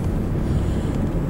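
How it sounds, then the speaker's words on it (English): Strong wind blows steadily outside near a work shop, a continuous low rumbling buffet against the microphone with no voices. "Windy as all get out"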